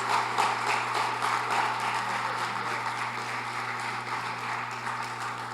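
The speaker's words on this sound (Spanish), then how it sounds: "Alguien puede darle un aplauso a Él" Church congregation applauding during a Spanish sermon, steady continuous clapping heard from a distance, fairly faint over a constant low hum.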